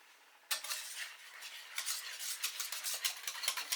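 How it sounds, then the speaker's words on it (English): A whisk scrapes and clinks rapidly against a bowl of mashed potatoes, a steady close-up metallic rhythm that starts abruptly after a brief quiet moment. "So I'm going to start whisking it"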